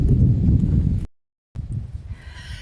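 Horses of a wild family band on the island of Vieques, Puerto Rico, walk along with a steady, close clip-clop of hooves, broken by a brief gap of silence before the footfalls resume.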